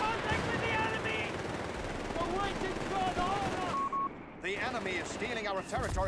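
An MG-42 machine gun in Company of Heroes 3 fires sustained bursts amid battlefield noise and scattered explosions, while a commentator talks over the gunfire.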